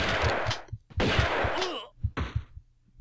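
Shotgun blasts from the video game Tomb Raider 2 go off in a few sharp bursts with short gaps and some game sounds in between.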